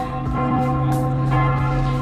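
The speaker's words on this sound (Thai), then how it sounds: "เสียงระฆังนะคะบอกเวลาเที่ยงวันแล้วนะคะ" Church bells next to a café in Venice ring out the noon hour, sustained resonant tones overlapping with fresh strikes, moderately loud and close, with no voices.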